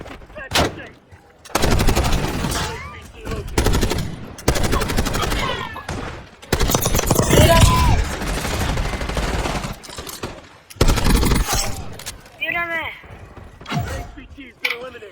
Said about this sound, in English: He's taking fire.